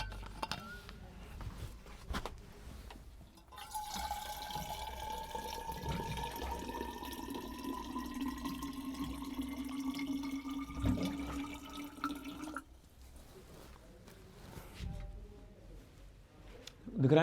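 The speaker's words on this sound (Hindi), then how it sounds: "मैं थोड़ा पानी पी लूँ जब तक" Water streams steadily into a drinking glass or bottle for several seconds, a rising fill tone climbing as the vessel fills, then stopping, with quiet room sound around it.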